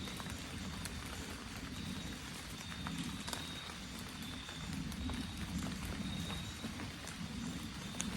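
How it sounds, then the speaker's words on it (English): Faint footsteps at night, heard during an evening work break, pad along steadily and softly, almost buried in a constant hiss like light rain. "Did you hear those footsteps?"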